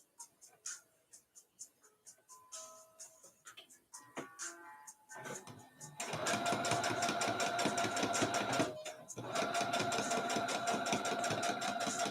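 A sewing machine starts with scattered clicks and brief bursts, then runs steadily at speed, stitching fabric for a dress pattern with a loud close rapid mechanical whirr, pausing once before resuming.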